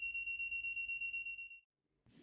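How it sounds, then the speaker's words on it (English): A Seesii handheld gas leak detector alarm sounding on detecting butane gives a rapid series of sharp, piercing electronic beeps, close and loud, then stops abruptly, followed by a brief rustle. "You've got a clear, audible and visual alarm there."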